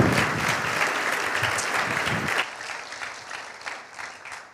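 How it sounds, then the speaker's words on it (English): An audience applauds the speaker Sam Allberry at an evening talk, a dense, loud wash of clapping that drops off sharply partway through and trails into scattered claps. "Can we give Sam a round of applause for being with us this evening?"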